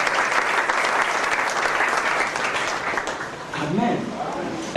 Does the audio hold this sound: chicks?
no